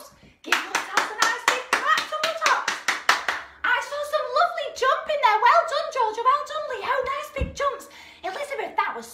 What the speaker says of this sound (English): give yourself a nice big clap